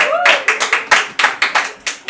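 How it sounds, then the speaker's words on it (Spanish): Applause for a performer on a Spanish-language comedy or talk show, a quick run of sharp, closely miked claps in a steady rhythm, preceded by a brief whoop. "fuerte aplauso, por favor"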